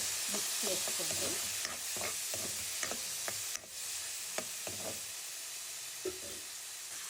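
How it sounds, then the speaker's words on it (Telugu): Mushroom pieces sizzling and frying in hot oil in a pan, with a steady loud hiss and irregular scraping stir strokes throughout, no talking. "ఇప్పుడు ఈ ఫ్రై అవుతున్న ఆయిల్లో మనం ఈ మష్రూమ్ పీసెస్ యాడ్ చేయాలి."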